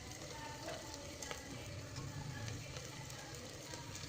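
Food frying in a pan before beetroot goes in, a faint, even sizzle with occasional small ticks, quiet and continuous throughout, with no talk.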